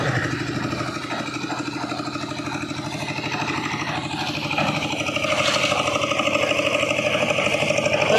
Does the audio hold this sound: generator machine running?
yes